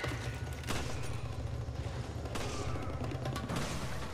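Gunfire in Resident Evil 5 during a headshot, a dense, noisy burst of shots and impacts over a steady low rumble of game sound, with a few sharp louder cracks standing out.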